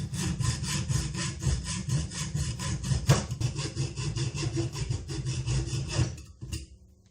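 A hacksaw cuts through an aluminium hub from a motorbike alternator, making steady, rapid back-and-forth strokes that are loud and close. The strokes run almost continuously before stopping near the end.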